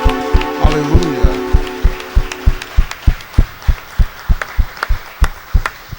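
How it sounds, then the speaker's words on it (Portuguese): A church congregation claps in praise to Jesus. Loud, regular claps keep a strong beat, with sustained keyboard chords ringing under the first half before the clapping carries on alone. "Pode dar uma forte salva de palmas para o Senhor Jesus Cristo."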